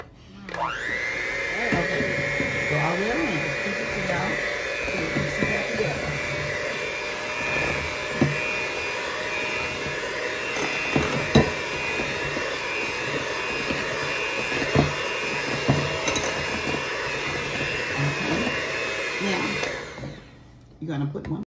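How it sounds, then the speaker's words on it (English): An electric hand mixer whirs continuously, loud and close, blending sugar into strawberry dump cake batter in a home kitchen, with a steady motor drone and occasional beater knocks against the bowl while people talk faintly in the background. "I'll take your mixer and start blending it in."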